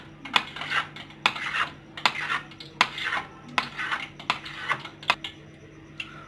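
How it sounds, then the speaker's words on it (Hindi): A knife cuts through rolled namak pare dough, producing a rhythmic run of sharp taps on the board, about a dozen close, clear knocks spaced under a second apart. "ये इस तरह से हम लोग इसकी कटिंग कर लेंगे गाइस।"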